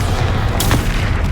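Bombarda blast spell in the wizarding game Hogwarts Legacy, a single sharp burst over a steady low rumble, short and loud, with no voices.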